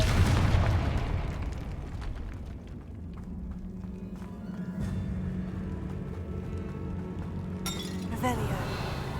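Blasting-spell explosion in Hogwarts Legacy on PS5: a loud opening burst with shattering, clinking debris, a steady low rumble through the middle, then sharp crackling impacts near the end, with voices speaking over the game sounds.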